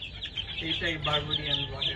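A bearded fancy chicken of the Barbu d'Uccle type clucks quietly close by, giving a string of short, low calls in an otherwise calm setting.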